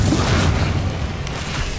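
A Bombarda blasting spell in Hogwarts Legacy sounds as a loud, deep boom at the start, then fades into a rumbling low tail over about two seconds.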